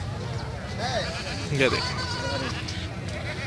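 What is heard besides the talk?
goats bleating at a livestock market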